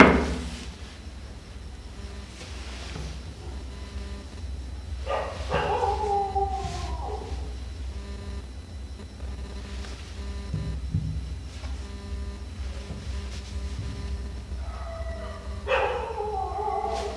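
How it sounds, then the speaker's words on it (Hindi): Dogs bark and howl, with drawn-out wavering howls rising twice among scattered barks, set against a low constant background hum. "कुत्ते भौंकना शुरू कर दिया।"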